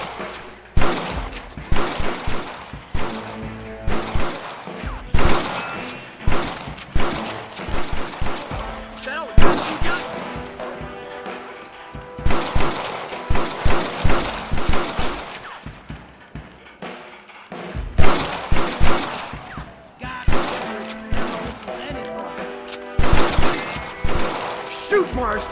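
Gunfire in a Red Dead Redemption shootout: repeated bursts of rifle and pistol shots with crashes, loud and close, in irregular clusters across the whole stretch, with game music and voices underneath.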